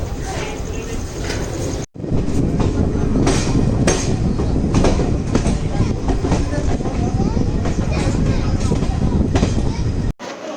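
Goa Express special Jan Shatabdi passenger train between Madgaon and Belagavi runs on rails, a loud continuous rumble with clickety-clack of wheels heard from inside the coach, with brief cuts.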